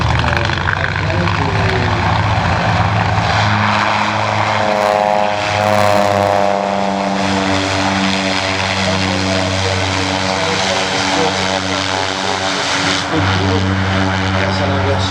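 Propeller airplane at the La Ferté-Alais air show with reversible-pitch propellers, a loud, close droning engine with strong steady harmonics and a shifting pitch as it passes, continuous throughout.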